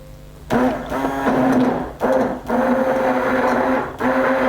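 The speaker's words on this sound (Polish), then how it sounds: "wszystko przy pomocy takiego Mhm. Blendera" A blender purees broccoli cheese soup, its motor whirring in loud bursts, cutting out briefly between runs, with a steady mechanical hum and shifting pitch as it blends.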